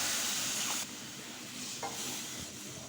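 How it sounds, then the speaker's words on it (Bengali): Two cups of hot milk poured into a frying pan for a malai roll sauce: a loud, close sizzling hiss that eases after the first second into a softer, steady bubbling, with no talking. "এখন আমি এখানে 2 কাপ পরিমাণ গরম দুধ দিয়ে দিচ্ছি।"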